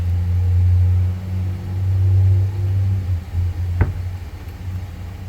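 A truck engine idles as a steady low rumble throughout, with a single sharp knock partway through.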